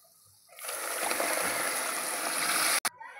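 Tamarind extract pours into a hot frying pan of tempered spices for pulihora, setting off a sudden loud steady hiss that runs for about two seconds, then cuts off abruptly.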